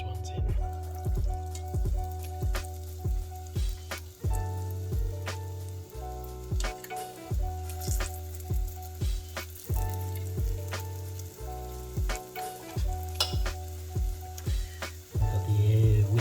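Akara bean fritter batter fries in hot oil with a continuous bubbling sizzle, heard beneath loud, rhythmic background music with a steady thumping beat.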